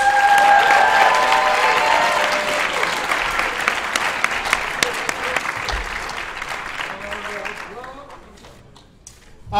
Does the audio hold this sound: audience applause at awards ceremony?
yes